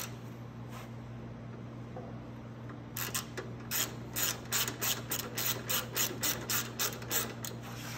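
A ratchet tightens the gas tank bolts on a Venom 125cc mini jeep, its rapid clicking bursts starting partway through and repeating in a steady rhythm over a constant low mechanical hum.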